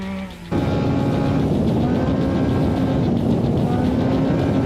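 Off-road race car 444 in the NORRA Mexican 1000 rally roars in abruptly through a riverbed after a brief quieter moment. A loud, sustained engine blast fills the rest of the clip with no talk.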